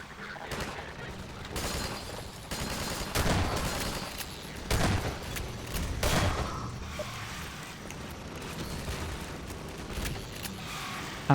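Gunfire in the video game Half-Life 2: repeated bursts of shots and booms across the clip, fairly loud, mixed with game effects and a voice talking over them.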